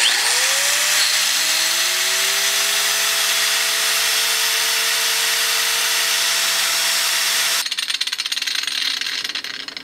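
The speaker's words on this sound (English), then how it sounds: "Let's try it with two grinders." Two angle grinders spin up and run steadily together on an overland solar power setup, a loud continuous whine with rising tones as they reach speed, then a rougher buzzing change near the end; no talking.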